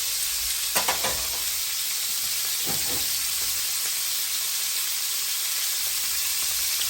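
Pork chops with a little butter sear loudly in a hot pan, a dense constant sizzle and hiss with a few brief clanks of a utensil near the start.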